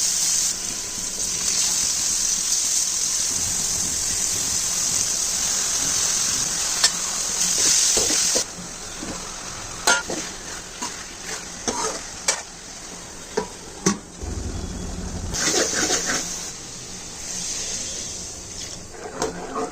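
A pot of mutton and mushroom curry bubbles and sizzles loudly and continuously, with clattering stirring knocks breaking in during the second half.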